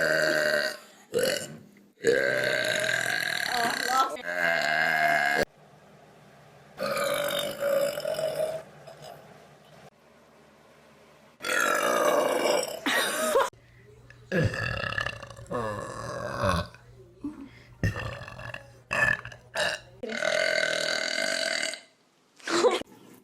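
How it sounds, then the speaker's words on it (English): Series of loud, close burps from people in short compilation clips, each a drawn-out guttural belch, interspersed with talking and laughter and brief silences between segments. "Good burp."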